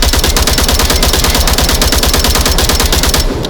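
A full magazine empties in the VR shooter Onward: a rapid, loud automatic stream of shots fired at an even, fast rhythm, cutting off abruptly near the end as the rounds run out.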